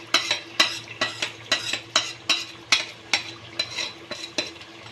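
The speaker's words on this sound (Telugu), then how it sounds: "ఈ చికెన్కి జాయింట్ పట్టేటట్టు కలుపుకోండి" A spoon stirs masala paste and chicken through biryani rice in a pot, making about a dozen evenly spaced scraping clacks against the metal, close and clear, with a low hum underneath.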